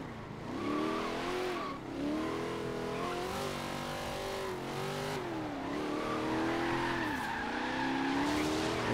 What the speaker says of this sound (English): We got the drifting Escalade back here.